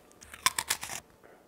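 A bite into a crunchy piped meringue cookie, a quick run of sharp, close crunches lasting under a second, then quiet.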